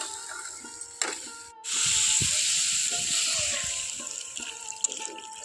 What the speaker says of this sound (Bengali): এখন আমি এর মধ্যে জল দিয়ে দেবো